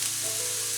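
Garlic and onions frying in olive oil, a brief, even, hissing sizzle with no pauses.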